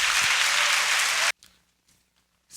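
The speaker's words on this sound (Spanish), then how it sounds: "¿Cuántos le dan un aplauso al Señor?" A church congregation bursts into loud applause in praise of the Lord, a dense wash of clapping that cuts off abruptly halfway through, followed by near silence with faint scattered noises.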